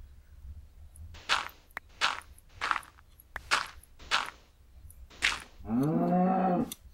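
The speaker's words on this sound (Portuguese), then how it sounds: "No caso aqui, a vaca que eu vou utilizar pra tá pegando os bifes" A Minecraft cow gives several short, evenly spaced grunting moos, then one longer, drawn-out moo at the end, all close and clear, with no talk.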